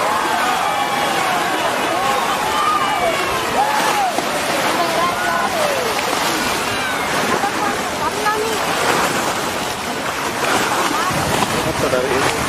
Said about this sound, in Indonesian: Ada perahu layar.